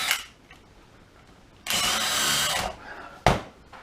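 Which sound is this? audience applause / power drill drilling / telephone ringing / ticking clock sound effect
power drill drilling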